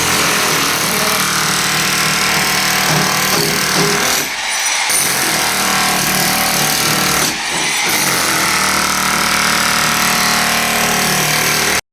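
A loud, continuous mechanical hammering roar of a large demolition machine breaking brick walls inside a house, with two brief dips before the pounding resumes.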